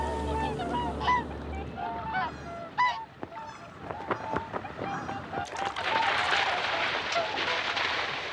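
Wintering whooper swans in a Hokkaido marsh give loud bugling honks, several calls overlapping near and far, followed by a rushing splash of water.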